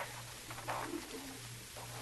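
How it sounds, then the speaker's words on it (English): Pigeons give soft, faint cooing calls in a short burst over a steady low hum, with no voices present, used as a sound effect in a murder-case radio drama. "Don't look like you hurt any of my pigeons, Danny."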